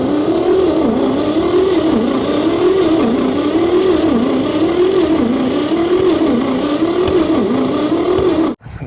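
A long-abandoned 1959 Chevy pickup's engine cranks over loud and close in a steady, wavering rhythm of repeated cycles, droning on without catching for about eight seconds before cutting off abruptly.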